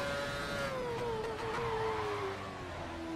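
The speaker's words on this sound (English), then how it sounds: "That's a big lock up there." Car in the F1 2013 video game at Singapore, engine whine steady and loud with tires locking up under heavy braking, a continuous tone sliding gradually downward.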